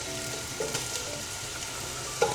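Onions sizzle quietly in a pan for chicken sopas, a soft steady frying hiss with a couple of light stirring scrapes and clinks, no talking.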